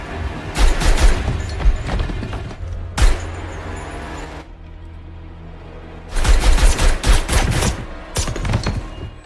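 Gunfire in an action film, loud rapid bursts of automatic shots in several volleys separated by a brief lull with a low rumbling background, close and forceful.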